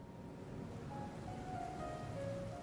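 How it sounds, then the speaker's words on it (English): Steady rain with a soft, even wash of noise in the police management game This Is the Police, continuous and fairly faint, with faint tonal game music underneath. "Oh, it's raining."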